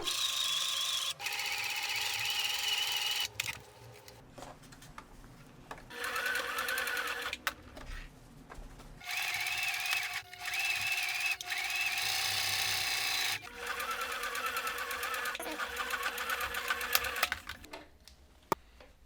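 A sewing machine stitches a pocket shut on a homemade zip-up hoodie, running in close, loud bursts of rapid stitching separated by short pauses, with no voices.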